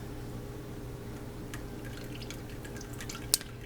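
Chickpea liquid drains from a can into a bowl as a faint, steady trickle with soft scattered drips and one sharper splash near the end, quiet and close.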